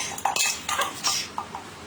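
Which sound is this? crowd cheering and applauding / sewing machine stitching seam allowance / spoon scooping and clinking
spoon scooping and clinking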